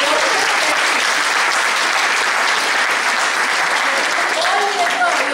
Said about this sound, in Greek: Θα θέλαμε ένα μεγάλο χειροκρότημα από όλους σας.